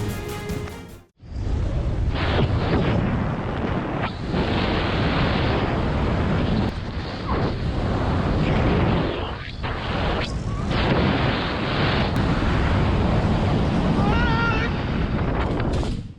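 Storm waves crash and wind roars continuously at a beach pier, a loud dense rush of surf and gusts buffeting the microphone after a brief quiet start, with no voices.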